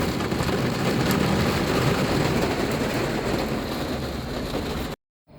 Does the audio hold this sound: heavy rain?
yes